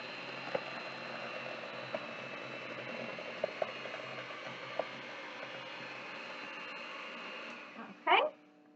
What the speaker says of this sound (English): we are mixing